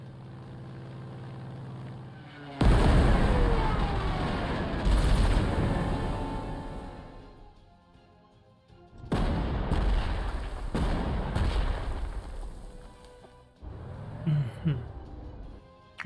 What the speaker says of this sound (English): I want to destroy this artillery